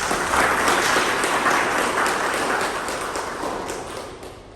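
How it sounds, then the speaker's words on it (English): A Toastmasters meeting audience gives loud, dense applause that rises into a steady roar, then gradually thins and fades toward the end. "Please give them a big round of applause."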